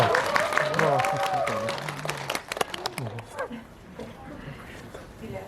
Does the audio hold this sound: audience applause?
yes